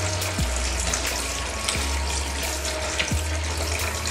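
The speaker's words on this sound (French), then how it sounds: "je vais nettoyer tout là avec de l'eau. Je vais rincer au moins 2 ou 3 fois" Tap water runs and splashes in a sink as chicken is rinsed, a steady close rushing flow with faint clunks of handling.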